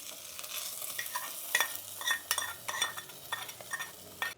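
Tempering spices sizzling in hot oil for a tamarind-leaf curry, with scraping and stirring of a utensil against the pan, sharp irregular clinks over a steady fry.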